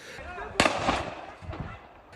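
Fireworks go off during street clashes between Palestinians and Jewish settlers in Sheikh Jarrah, Jerusalem, with a sharp loud burst followed by a second weaker pop over crowd noise and voices.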